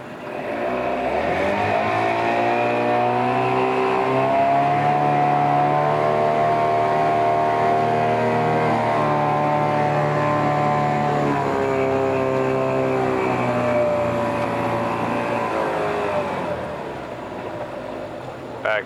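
A 1997 Mercury 15hp two-stroke short-shaft outboard motor runs steadily in forward gear, a loud continuous buzzing drone with a slight pitch dip midway, alone without talk and easing off at the end.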